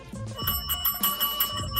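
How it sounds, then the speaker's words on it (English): Secondhand thrift-shop bell rung to open a radio talk show, several quick bright metallic rings repeating in an irregular cluster, fairly close and alone without talk. "I got a new bell at the thrift shop."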